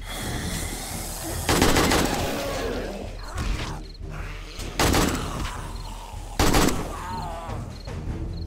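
Gunshots from a gun in the video game 7 Days to Die: three loud, sharp reports spaced a second or more apart, each with a short mechanical tail, over a low background.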